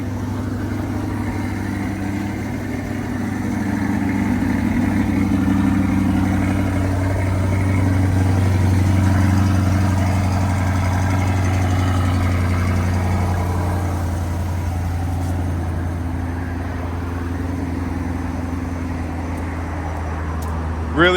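The V8 in a 2025 Chevy Corvette E-Ray idles steadily with a deep, even rumble, swelling slightly midway and then settling, heard up close and without talk throughout.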